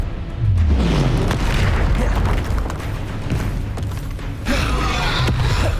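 Bombarda blasting spell in the Hogwarts Legacy video game, heard as a loud, deep booming explosion with rumbling debris and magical crackle, layered over continuous busy combat effects.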